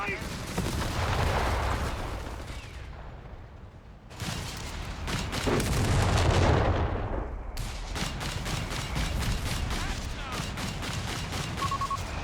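Artillery airbursts and gunfire in Company of Heroes 3 come as heavy booms and crackling bursts, then a rapid train of sharp repeated shots, loud and dense throughout, with a voice talking over the battle.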